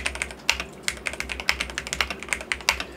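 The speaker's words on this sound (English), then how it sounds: "I am just trying to type without looking." Rapid typing on a DrunkDeer A75 magnetic-switch keyboard, a steady run of close, crisp key clicks with uneven rhythm and a few louder strikes, no voices.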